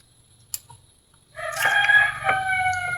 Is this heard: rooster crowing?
yes